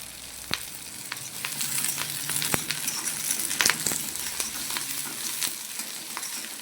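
Onion and curry leaves frying in a pan, a steady close crackling sizzle with sharp pops and occasional clinks of a utensil against the metal, no voices over it.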